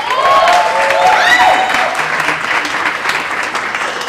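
Audience at a media launch celebration gives a sustained round of applause, dense clapping with some cheering voices and whoops rising early, then settling into even clapping.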